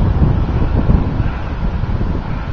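Steady wind gusting across the microphone on a breezy spring day outside a house, a loud continuous low rumble with rising and falling buffets and no voices.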